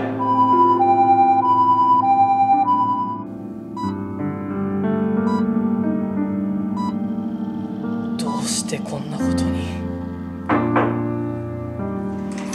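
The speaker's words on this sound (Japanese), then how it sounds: "救急車、救急車、" A wailing ambulance siren rises and falls in a steady pattern, loud and close, followed by thumps and knocks and people talking.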